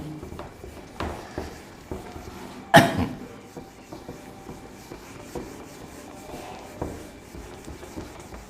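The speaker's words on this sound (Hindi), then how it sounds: "तो चलिए इसे रब कीजिए" An eraser or duster rubbing out writing on a board in a physics lesson on current, heard as soft scrubbing strokes with one sharper knock, close by and moderately quiet.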